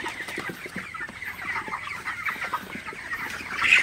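A flock of broiler chickens on a farm in hot, humid weather clucks in a busy, continuous murmur of short calls at moderate distance, with no talking.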